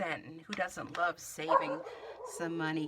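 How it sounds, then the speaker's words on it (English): A pet dog barks and yips indoors in short bursts, mixed with someone talking close by over it. "And sorry, that's my dog."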